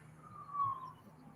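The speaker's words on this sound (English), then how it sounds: "I hear the sirens. there are some sirens." A faint siren wails in the distance outside, a thin rising and falling tone over a low background hum, with no talking.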